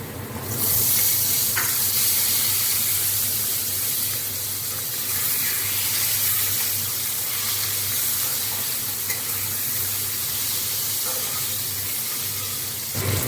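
Chopped tomato hits potatoes frying in oil with cumin seeds. A loud, close, continuous sizzle and hiss holds steady throughout with no talk.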